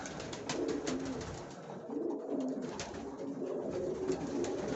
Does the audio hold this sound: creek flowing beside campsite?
no